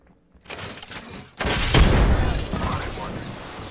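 A frag grenade goes off in a video game: after a few soft thumps, a sudden loud blast erupts and rumbles, then fades slowly into scattered debris.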